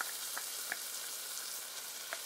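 Garlic frying in a hot pan for a Rasta pasta dish, a steady soft sizzle with a few faint crackles and pops, fairly quiet and with no voices.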